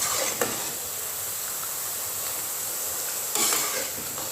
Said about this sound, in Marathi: मंद आचेवर बुंदी भाजायच्या, करपून द्यायच्या नाहीत.